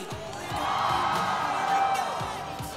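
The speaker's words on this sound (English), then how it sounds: "Give yourselves a round of applause." A large crowd cheers and whoops continuously at an esports final, a broad, steady roar of voices that swells slightly in the middle, with some shouting mixed in.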